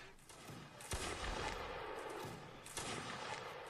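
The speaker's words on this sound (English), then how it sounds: "Here is the artillery now" Distant artillery booms in a Napoleonic Wars line battle game, two sharp reports standing out over a steady rumbling battlefield din of scattered gunfire.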